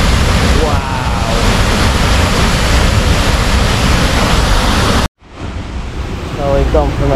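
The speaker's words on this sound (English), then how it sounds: "Look at the roar of that waterfall." Loud, constant roaring rush of the Sumampan waterfall in Bali fills the air, briefly cutting out, then returning with faint voices beneath the roar.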